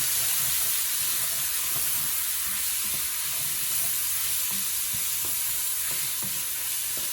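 Vegetables for chicken sauce piquant cook down in a pot over medium-low heat, a steady close sizzle and hiss with occasional faint stirring clicks throughout.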